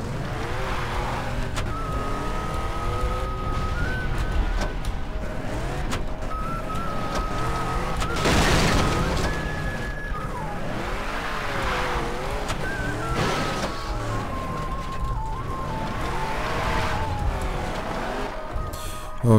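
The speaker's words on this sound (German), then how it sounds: "Und klauen wir uns kurz den Wagen." In Far Cry 3, a stolen car is driven, with an engine that revs up and down continuously over rough ground. The engine drones loudly throughout, with shifting pitch sweeps and occasional bumps or skids.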